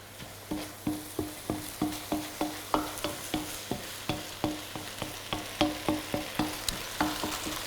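Korean potato starch noodles cook down in sauce in a hot pan, with a steady sizzle and regular scraping stirs about every third of a second, close and fairly loud with no talk.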